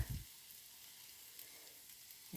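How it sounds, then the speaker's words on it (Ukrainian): Cherry pancakes fry in a covered pan with a faint, steady sizzle, broken by a soft clunk at the start and end. "Прикриваю і обсмажую далі до готовності."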